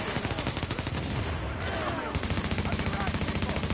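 Rapid automatic gunfire from The Division video game, a loud, dense stream of rattling shots with brief shifts in rhythm, continuous and close throughout.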